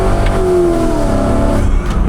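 A high-mileage cheap V8 Mercedes-AMG revs loudly and close by, the engine note sweeping down in pitch, with a brief chuffing choo-choo-like whistle in its sound.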